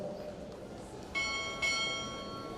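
Two crisp strikes of a ship's bell ring out during a navy chief petty officer pinning ceremony, evenly spaced and each trailing a bright, lingering tone over faint room noise.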